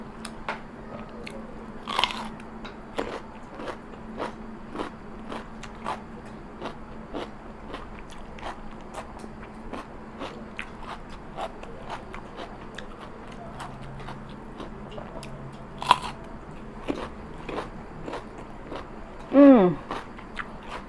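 Crispy fried wontons being bitten and chewed up close, with a steady run of sharp crunchy bites and crackles, a louder crunch now and then, and faint background noise throughout.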